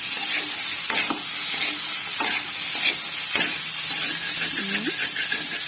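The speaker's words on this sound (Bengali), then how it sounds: "এটিকে ভালোভাবে সবগুলো মিক্স করে নেব মশলার সঙ্গে" Chickpeas and potatoes with spices are stirred in a frying pan over steady, close sizzling and hissing, with a few distinct spatula scrapes and knocks against the pan.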